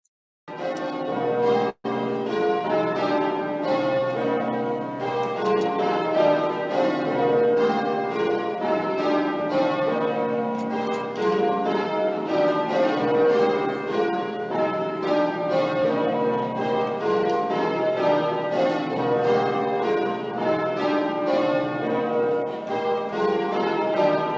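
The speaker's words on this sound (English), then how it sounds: "those bells. I think that's a Southwark Church" A peal of church bells from a Southwark church, many overlapping strikes ringing continuously and loudly for the whole stretch with no voices.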